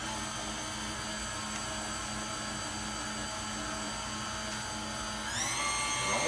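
A steady, high electric mixer whine runs through pecan rum cake batter with rum and vanilla added, rising in pitch near the end.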